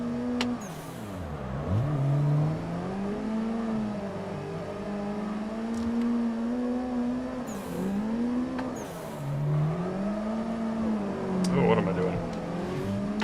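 A drifting car in the Assetto Corsa racing sim whines and revs, its engine pitch rising and falling in long sweeps with tyre-squeal accents, steady and moderately loud throughout.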